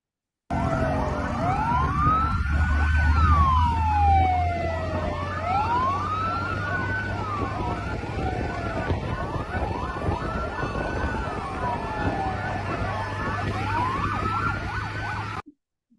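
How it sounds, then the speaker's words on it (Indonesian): A passing car's wailing siren sweeps up and down repeatedly over a low vehicle rumble, loud and continuous, with overlapping tones as it moves. "itu adalah suara sirine dari mobilnya sendiri"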